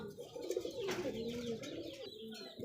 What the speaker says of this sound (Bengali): এটা কি ইন্ডিয়ান লটন